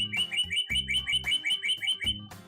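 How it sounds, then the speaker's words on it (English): Rapid, repeated bright chirping whistles in a steady rhythm, loud and close, with clicking sounds mixed in. "The bird seems annoyed and whistles loudly."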